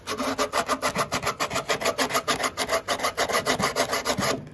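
Hand sanding of a wooden shape for a retro car model, with quick even back-and-forth rasping strokes, close and steady, about five strokes per second, ending abruptly.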